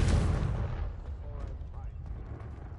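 A Confringo blasting spell going off in Hogwarts Legacy, one heavy boom at the start that rumbles and fades over a few seconds, with faint game effects trailing behind.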